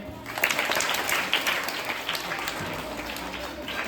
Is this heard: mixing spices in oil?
no